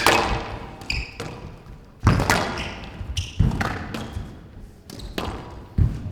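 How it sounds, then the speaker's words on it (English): Squash ball struck with a racket in a forehand drop shot during a professional match at the Canary Wharf Classic, heard as sharp thuds and taps echoing off court walls, several hits spaced across the rally. "Another good example of a drop shot on the forehand side."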